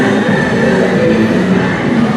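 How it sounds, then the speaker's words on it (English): A simulated subway train rumbles steadily at Universal Studios' New York area, a loud, continuous low roar with a faint metallic whine running through it and no distinct clicks. "And a fake subway."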